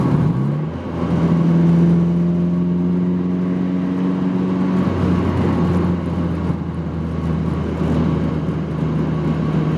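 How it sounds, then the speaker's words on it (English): A Mazda Miata NC with a swapped naturally aspirated 2.5L engine, 210 hp and a 7,000 RPM redline, revs loudly in the cabin, its tone rising then settling into a sustained steady drone, with no talking. "There's just something about a naturally aspirated motor that just, it's a little more satisfying."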